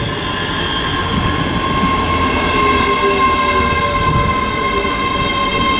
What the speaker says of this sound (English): That's a 1601 ScotRail service to Glasgow Central from Edinburgh.